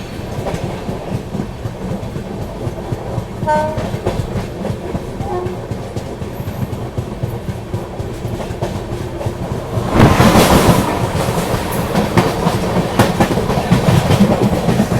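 West Coast Superfast Express train running on rails, with a steady rhythmic clatter of wheels and carriages; the rumble grows louder and denser partway through as it comes closer and passes.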